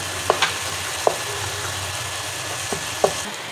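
Softened tomatoes are mashed and stirred in a hot cooking pan for a dhaba-style chana daal, with a handful of distinct utensil scrapes and taps over a low, steady sizzle and no talking.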